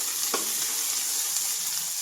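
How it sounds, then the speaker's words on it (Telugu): Onion pieces frying in oil for a prawn curry, a steady close sizzle with a brief stirring scrape near the start. "ఉల్లిపాయ ముక్కలు వేసేయాలి."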